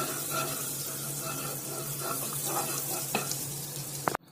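Ginger frying in melted butter in a pan for paneer butter masala, a steady close sizzle with a faint clink of a utensil near the end before it cuts off.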